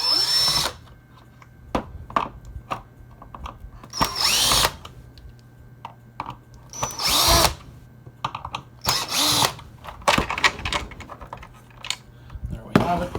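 A power drill backs screws out of the beater bar plate on a bagless Hoover WindTunnel vacuum in short, sharp bursts, interrupted by clicks and handling clatter and a few faint spoken words between the bursts.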